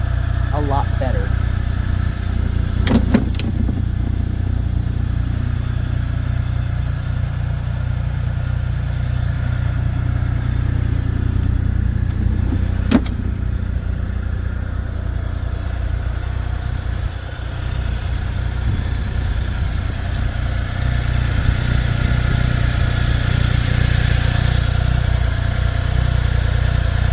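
The engine of a 2025 CF Moto U10 Pro UTV runs quietly as a steady, low, even drone throughout, broken by a few sharp clicks.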